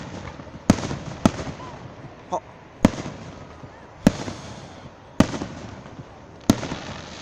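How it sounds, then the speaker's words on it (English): Fireworks at an Independence Day eve show in Florence, Kentucky, thud in six distant, evenly spaced booms over a steady outdoor crowd hum, with a faint whistle rising between blasts. "Got more fireworks coming,"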